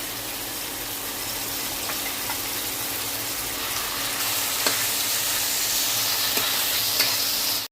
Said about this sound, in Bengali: আদা, পেঁয়াজ, রসুন বাটাটা দিয়ে দিলাম।